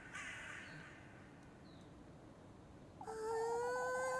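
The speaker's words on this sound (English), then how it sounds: "Oh, there's so many crows." Crows caw in a video game over a quiet ambient bed: a few faint distant calls early on, then a louder burst of cawing near the end, with no talking.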